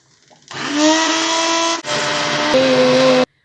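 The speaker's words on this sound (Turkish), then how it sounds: "Üzümlerin tamamen yumuşadığından emin olduktan sonra blender'a verelim." A blender purees cooked, softened grapes, whirring loudly for about three seconds, briefly dipping in pitch midway, then cuts off abruptly.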